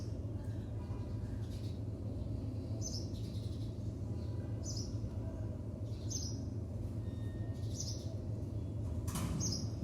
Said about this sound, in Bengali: শুধুমাত্র এই বিল্ডিংয়ের আশেপাশে পাখির শব্দ হয়